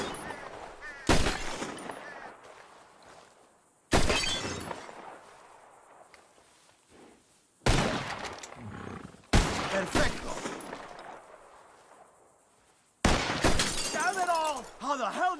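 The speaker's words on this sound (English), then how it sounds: "Whoever shoots more of these bottles wins." Several loud gunshots in Red Dead Redemption, each followed by shattering glass as a bottle breaks, coming in separate bursts a few seconds apart with voices talking in between.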